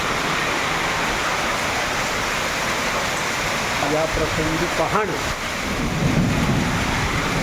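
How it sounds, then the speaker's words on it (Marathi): Heavy rain hisses steadily as a thunderstorm with hail and gusty wind rumbles, with a voice speaking briefly partway through. "वादळी पाऊस"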